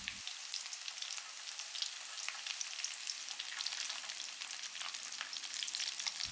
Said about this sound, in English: Give them a few toss for a minute